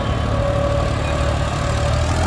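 Massey Ferguson 244 tractor engine running during a stunt display, a loud steady low diesel drone with a rhythmic throb, heard briefly without talk.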